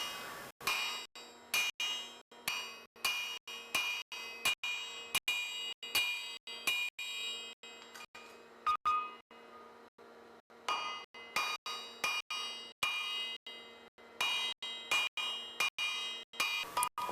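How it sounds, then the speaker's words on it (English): A blacksmith hammers hot steel with a fuller on an anvil while forging hollow bit tongs, setting off loud, ringing metallic blows in steady rhythmic bursts, a short pause, then another run of evenly spaced strikes. "Having marked the metal, I use a fuller for the next step, though you could equally use the bick of your anvil."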